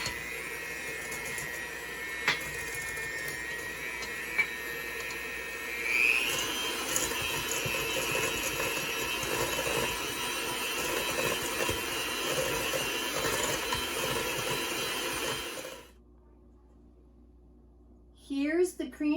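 Electric mixer whirring through a cream cheese mixture with lemon juice for cheesecake in a jar, a steady buzzing drone for about fifteen seconds, then stopping before a person speaks.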